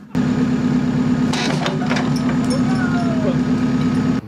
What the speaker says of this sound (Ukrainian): його спершу обережно обв'язали, а потім легенько підштовхнули трактором